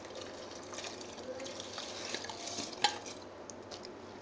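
Rice is tipped into boiling stock for kuzhi mandi and stirred, a soft wet churning and bubbling close by with one sharp clink of a utensil against the pot midway.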